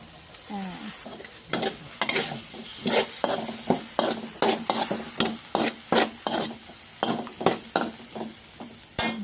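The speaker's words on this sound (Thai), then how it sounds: "ผัดมะเขือให้ให้พอสุกก่อนนะคะ" Eggplant is stir-fried in a pan while cooking sand whiting fish in a spicy dish, with a steady sizzle under repeated sharp scrapes and clacks of a utensil against the pan.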